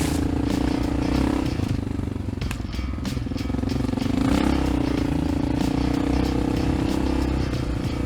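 Honda XR650L dirt bike ridden through soft sand in Ocala National Forest, its engine droning steadily and loudly close by, with rattling and scraping from the terrain throughout and no voices.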